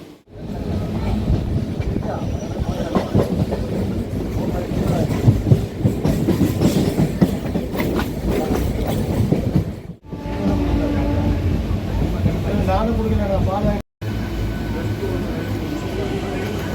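An Arakkonam EMU local commuter train runs from Chennai toward Tiruvallur, its loud steady rumble and rhythmic wheel clatter heard from inside the carriage for the whole stretch, interrupted by two short cuts.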